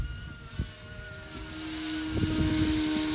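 A small 1/32-scale RC Apache AH-64 helicopter whirs steadily nearby, its rotor hum rising slightly toward the end, with a few faint knocks.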